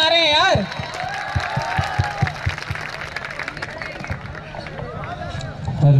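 A crowd claps and cheers at a college freshers' party, the Abhinandan 2K22 welcome, a steady wash of applause under an announcer's voice and chatter in a large hall.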